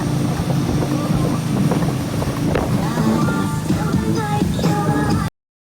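A boat motor churns steadily on open water with wind buffeting the microphone, waves and hull noise mixed in, ending abruptly.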